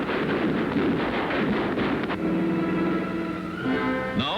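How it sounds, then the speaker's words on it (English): Machine guns and cannon test-fired on a World War II bomber aircraft, a loud continuous roar of rapid gunfire and engine drone, with tonal engine hum emerging later. "Every machine gun and cannon is tested before the flight."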